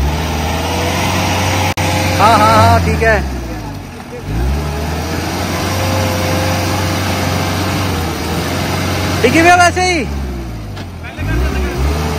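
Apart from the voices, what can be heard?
Mahindra Scorpio 4WD engine during an off-road test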